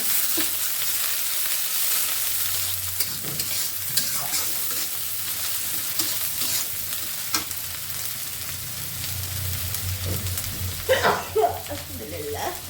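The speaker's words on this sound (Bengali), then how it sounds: "ছোটো ছোটো চিংড়ি মাছ দেবো পেঁয়াজের সঙ্গে ভেজে নেব" Small shrimp sizzle with onion and green chili in a hot pan, a steady frying hiss under repeated scraping stirs, with a few louder utensil clanks near the end and faint background voices.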